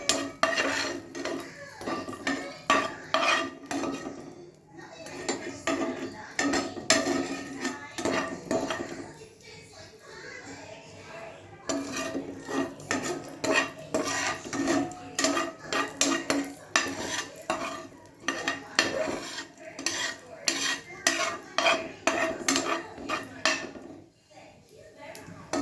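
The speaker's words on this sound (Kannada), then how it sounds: "ತುಪ್ಪಗೆ ನಾನು ಸ್ವಲ್ಪ ದ್ರಾಕ್ಷಿ, ಗೋಡಂಬಿನ ಮೀಡಿಯಮ್ ಫ್ಲೇಮಲ್ಲಿ ಹುರ್ಕೊಳ್ಳೋಣ." Raisins and cashews roast in ghee over a medium flame, a spoon repeatedly scraping and clinking against the pan in a busy stirring rhythm, with a faint sizzle beneath.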